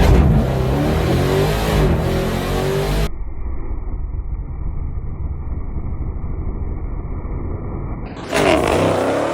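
A Dodge Demon 170 at Bradenton Motorsports Park on a test and tune night, its engine roaring loud and close, dropping to a muffled, band-limited drone in the middle before bursting back to full roar.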